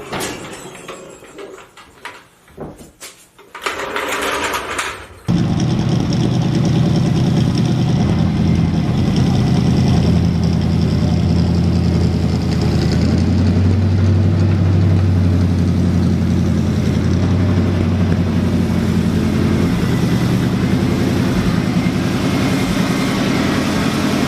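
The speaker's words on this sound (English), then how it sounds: "we'll back it out and see if our clutch works" A 1972 Dodge car engine starts and settles into a steady, loud idle close by, a continuous rumble after a few seconds of clanking and handling noise, as the car is readied to back out and test its clutch.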